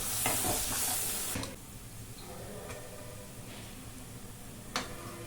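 A ground lentil and banana flower mixture frying on medium flame, opening with a loud bright sizzle that settles into a quieter crackle with occasional utensil taps.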